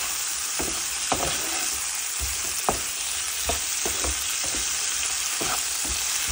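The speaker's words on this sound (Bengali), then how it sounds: "আলুটাও একটু ভেজে নিচ্ছি" Potatoes fry in a pan with a dense, loud, steady sizzle, while a spoon scrapes and knocks against the metal in frequent, irregular stirring strokes close by.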